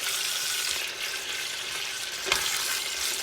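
Chicken pieces with the skin left on, seasoned and frying in a pan for a beer-braised chicken, give a steady, close sizzling hiss throughout with one brief louder crackle near the end.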